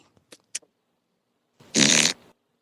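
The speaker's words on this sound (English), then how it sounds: "Clayton, did you fart too?" A fart sound effect played during a book and author trivia game, a single loud buzzy blast lasting about half a second, preceded by a few faint clicks and quiet background sounds.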